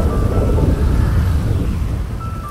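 A loud, continuous rumble of thunder in a GTA V storm rolls on without pause under a windy, rain-like wash, with no talking.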